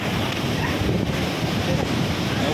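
Sea water surges into village houses at Pajpandhari, a continuous loud rush and wash of churning waves mixed with wind buffeting the microphone, steady throughout with no break.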